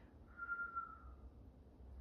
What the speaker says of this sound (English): And then whistle breath on the exhale.